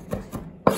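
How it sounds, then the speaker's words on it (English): A kitchen knife chops garlic and jalapeno on a cutting board, three crisp close knocks with the last one sharpest. "So now what you want to do here is just start chopping."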